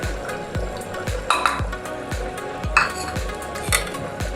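A spoon scrapes and clanks in a pot as garam masala and cumin powder are stirred into coconut milk mutton gravy, with steady rhythmic metallic strokes over a soft simmering sizzle.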